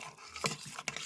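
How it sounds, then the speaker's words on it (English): A spoon stirs meatball ingredients in an Instant Pot, two short scraping clinks against the metal insert within a brief, quiet moment. "Be sure to stir that all in."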